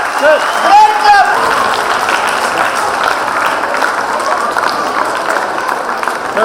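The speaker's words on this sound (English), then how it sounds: "Give a great clap. Great clap. Great clap." A crowd at a regional chess tournament claps steadily for several seconds, a dense wash of applause with voices mixed in underneath.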